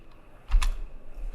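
A quick burst of two or three keystrokes on a computer keyboard, close and crisp, with a final tap after a short pause.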